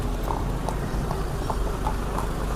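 A mare's hooves clip-clop in a steady, even rhythm over a constant rumbling background, moderately close.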